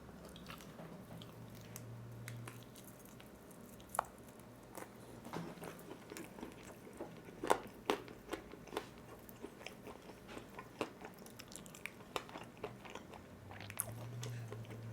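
Someone bites and chews an air-fried chicken wing coated in spicy Korean sauce. The crunches and soft squishy chews are close and fairly quiet, with irregular louder bites.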